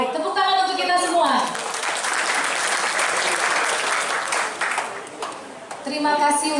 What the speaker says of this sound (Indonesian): Baik, tepuk tangan untuk kita semua.